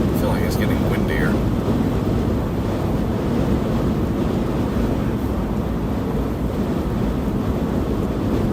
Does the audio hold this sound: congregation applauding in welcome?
no